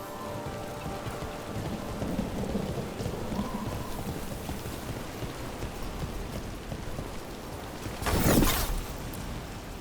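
Steady rain falls throughout with low rumbling thunder, and a sharp, loud crack of thunder bursts out near the end, in the video game Dragon Age: The Veilguard.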